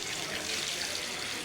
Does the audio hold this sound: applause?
no